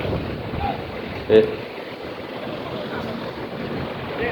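Sea waves and wind on a rocky seashore in Saudi Arabia make a continuous broadband wash with microphone wind rumble and one brief bump.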